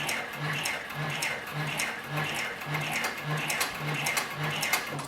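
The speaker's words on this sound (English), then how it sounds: "We'll turn the material 90 degrees and then continue sewing." Heavy-duty triple-feed arm sewing machine stitching through heavy material, with a steady rapid mechanical chatter and a regular low thump repeating about twice per second, close and continuous without talk.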